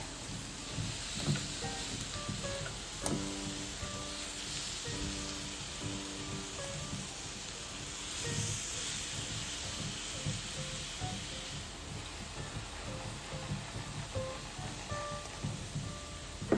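Food frying on a Bruno griddle, a continuous low sizzle with soft crackling and occasional clicks of a utensil flipping pieces, fairly quiet and steady.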